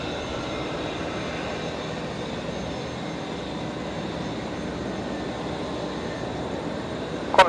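A Qantas airliner lands at Brisbane Airport, giving a steady, fairly distant roar of jet engines that holds level, with a short knock at the very end.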